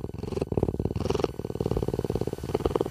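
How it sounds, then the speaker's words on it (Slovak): Young lynx kitten purring close up beside its dead adoptive wolfdog mother, a soft rhythmic rumbling purr with steady pulsing breaths in and out, quiet and alone. "Dokonca pri nej aj pradie."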